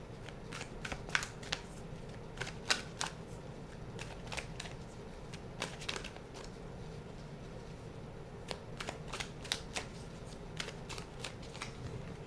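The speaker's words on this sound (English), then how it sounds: "I'm going to get centered here a little bit as I shuffle the cards" Tarot cards being shuffled by hand, a steady run of crisp riffling bursts and soft snaps close by, repeating throughout with brief pauses between shuffles and no talking.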